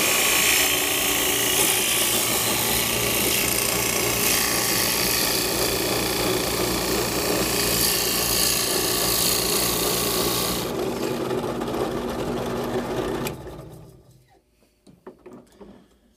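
A Forstner bit drilling into a small wood cube: a steady, loud whirring grind that holds for about thirteen seconds, then cuts off and leaves a few faint clicks and handling noises.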